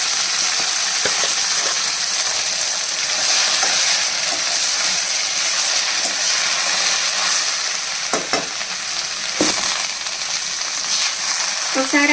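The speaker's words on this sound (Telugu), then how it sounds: "కరివేపాకు కూడా వేగిపోయిన తర్వాత ఇప్పుడు మనం ఈ కూర అంతా ఇందులో వేసేసుకోవాలి" Ponnaganti greens go into a hot tempering of fried curry leaves and keep sizzling steadily as a spoon stirs them, with a few sharp scraping strokes against the pan and no talk.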